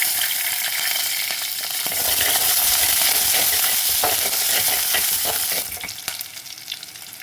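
Garlic, green chili and curry leaves sizzling in hot oil in a pan for a fish curry, a loud close crackling hiss with stirring scrapes that eases off toward the end.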